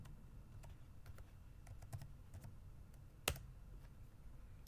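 Computer keyboard keys tapped at a quiet desk while entering a root password on an Ubuntu server, a faint run of scattered clicks with one sharper keystroke near the end.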